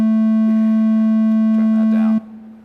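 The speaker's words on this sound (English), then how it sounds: "And a sine wave is our default, like rounded, nice, pleasant to the ear wave." A browser-generated sine wave tone holds one steady, smooth pitch at high volume, then drops to a quieter level near the end, with faint clicks and chirps in the background.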